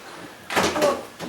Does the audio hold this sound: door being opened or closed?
yes